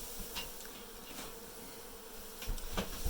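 Honey bees buzz steadily during a hive cutout in Dorrance, Kansas, a dense close swarm hum with individual bees swelling louder as they pass near, faint overall.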